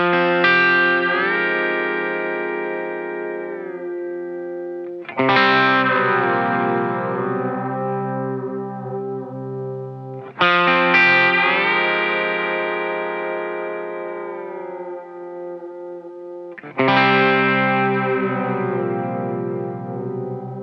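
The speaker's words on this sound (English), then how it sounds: "signal with the pitch shifting signal for some really cool sounds" Four slow guitar chords, each struck and left to ring for several seconds, with a shimmering, detuned pitch-shifted layer from a digital whammy effect blended roughly evenly over the clean dry tone.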